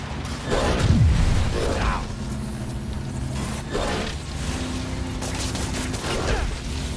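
Bursts of gunfire in the Spider-Man PS4 game rattle over rumbling action and mechanical noise, loud and close, with a few voices calling out amid the firing.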